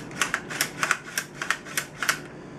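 A part on an IWI Tavor SAR rifle snaps into place under downward pressure: a series of sharp, close metallic clicks at an uneven rhythm, about eight to ten in all, with no talking.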